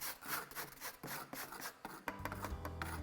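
A fork scrapes and rasps across frozen lemon or lime granita in a kitchen, a steady run of close, gritty scratching strokes with a few heavier knocks toward the end.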